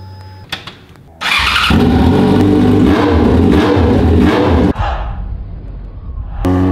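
XJ motorcycle engine revving hard, a loud sustained roar that starts abruptly after a quiet moment and holds steady before easing slightly toward the end.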